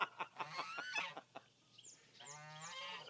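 Backyard chickens cluck and squawk outdoors in a string of close, lively calls, with a longer drawn-out honking cackle near the end.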